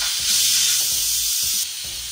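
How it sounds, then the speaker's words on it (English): Quick pressure release from a pressure cooker of beef birria, a loud, steady, close hiss of escaping steam that continues throughout, with faint low knocks underneath and no voices. "We're gonna release the pressure now."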